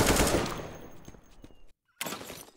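Rapid automatic gunfire from a Vulcan gun in the video game Garry's Mod, a dense loud burst that cuts off into a brief silence before another burst of firing resumes.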